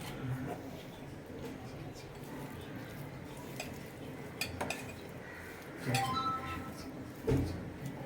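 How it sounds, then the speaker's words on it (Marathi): Crab curry being stirred and mixed with ground masala in a metal pot, with steady scraping and clinking of a spoon against the pot and a few louder knocks near the end. "आता ह्याला चांगलं मिक्स करून घ्यायचं आणि थोडं थोडं करून अजून वाटप घालत जायचं"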